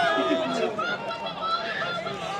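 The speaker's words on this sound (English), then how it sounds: "The fans is in the crowd yelling" Football fans yelling and cheering in the stands at a Thanksgiving high school game, Riverside vs Florence, a sustained crowd roar with a distinct voice under a commentator's talk.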